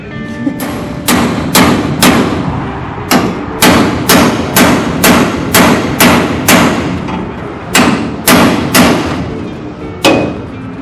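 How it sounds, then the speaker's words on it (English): Around seventeen sharp hammer blows ring on a chisel against rusted metal on a wrecked vehicle, struck steadily one after another, close and loud. "I'm going to use a chisel and a hammer because I love that sort of thing."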